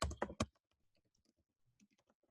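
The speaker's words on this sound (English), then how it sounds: "you're going to type in" A computer keyboard types out a web address: a few loud close keystrokes at first, then a quick run of faint, light clicks.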